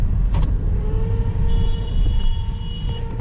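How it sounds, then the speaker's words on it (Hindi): A Skoda Superb or Volkswagen car with a 7-speed dual-clutch DSG gearbox drives in D mode in second gear, giving a steady, loud engine and road rumble from inside the cabin with a faint tonal whine and no talking. "तो अभी हम इस कार को डी मोड पे ड्राइव कर रहे हैं, तो D2 सेलेक्ट हो चुका है यानी कि सेकेंड गियर लग चुका है इस कार के अंदर"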